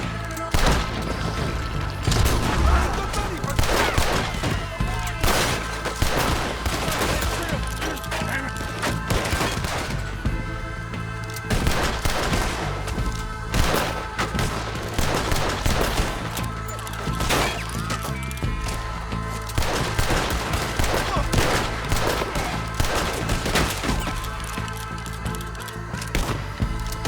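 A shootout in the video game Red Dead Redemption 2 brings dense, rapid gunfire, with many overlapping shots, cracks and impacts at close range over tense background music for the whole stretch.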